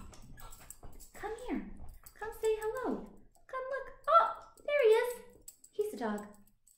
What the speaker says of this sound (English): You heard him bark.